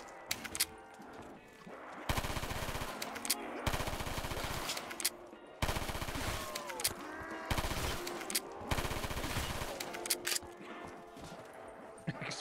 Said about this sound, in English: I still say this is without a doubt the worst pistol.